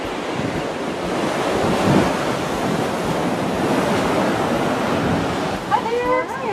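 Ocean surf rolling onto a beach at Crystal Cove, a continuous loud wash of breaking waves with a wind rumble over the microphone and a brief faint chirp near the end.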